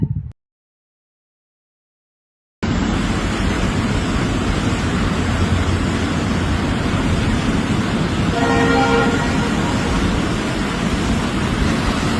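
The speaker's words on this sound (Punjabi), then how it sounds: "ਪੁਲ ਦੇ ਉੱਪਰੋਂ ਲੰਘ ਰਹੀ ਆ ਟ੍ਰੇਨ" A train crossing a bridge near Pathankot while the ground beneath one side of the bridge gives way. After a short silence, a loud, steady rumble of the passing train is heard, with a brief horn toot near the end.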